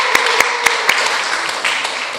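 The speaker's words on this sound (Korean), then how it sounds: "우리 박수로 격려하겠습니다." A church congregation claps together at a Sunday service, sharp handclaps landing in a steady rhythm before breaking into a looser scattered applause.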